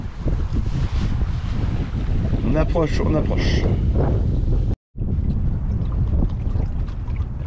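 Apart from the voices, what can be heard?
wind gust as sailboat enters port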